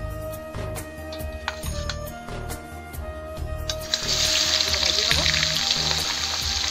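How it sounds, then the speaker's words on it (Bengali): Tangra fish dropped into hot mustard oil in a kadai: a few light metallic clinks, then a loud, dense sizzle that swells midway and keeps frying steadily. "তেলটা গরম হয়ে গেছে, মাছ দিয়ে দেবো তেলের ভিতরে।"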